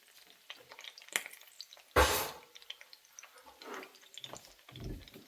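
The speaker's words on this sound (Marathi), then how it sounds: "हे असं वाफेमुळे पाणी येतं, ते तुपात पडलं की परत तडतड आवाज येतो" Hot ghee crackling as water from steam drips into the pan while cooking a Maharashtrian batti, with one sharp sizzling burst and a scatter of soft pops and drips, faint and close.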